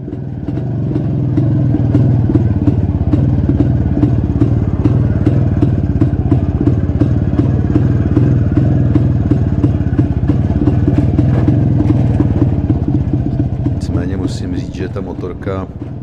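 A Jawa 250 motorcycle engine labours up a steep hill, a loud, steady droning thrum with rattling clatter throughout, fading slightly near the end.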